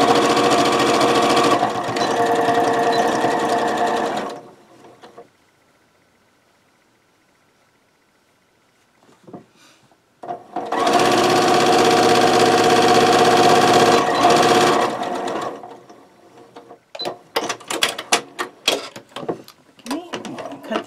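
A sewing machine stitches darts in fabric for microwaveable bowl potholders: two separate bursts of fast, even mechanical whirring with a quiet pause between, then scattered handling clicks and rustles.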